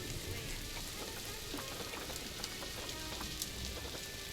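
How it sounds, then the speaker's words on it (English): Rainfall in the zoo-building video game Planet Zoo, a steady hiss of rain with scattered droplet patter over a soft, constant ambient bed, no talk heard. "And yes, it is raining."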